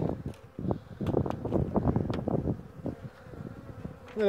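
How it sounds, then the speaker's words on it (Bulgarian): Agitated honeybees hum around an opened hive during a spring inspection, a buzzing swarm mixed with wind and close handling rustles and knocks that rise and fall over a few seconds. "Малко са агресивни пчелите."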